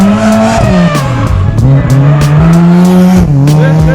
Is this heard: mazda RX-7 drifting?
yes